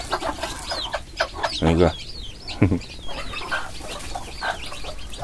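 Newly hatched chicks give thin, high peeps close by, mixed with a few low clucks, while a person speaks briefly.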